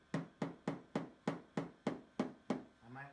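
Nine evenly spaced metallic taps strike the crushed fender of a 2017 Lexus SUV during paintless dent repair, each a sharp, ringing hit at close range, with a brief low hum at the end.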